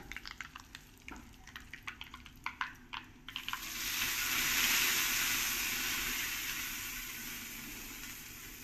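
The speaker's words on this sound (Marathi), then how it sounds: "पहा कसा चरचर आवाज येतोय, तडका सुंदर बसेल आहे चटणीवरती" Hot oil with curry leaves and asafoetida poured over chutney bursts into a loud, steady sizzle that swells then slowly fades, after a run of sharp crackling pops and drips.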